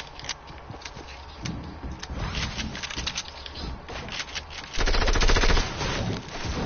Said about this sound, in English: I think they're shooting us down.